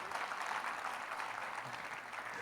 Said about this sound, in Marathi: त्यांच्यासुद्धा एक जोरदार टाळ्या.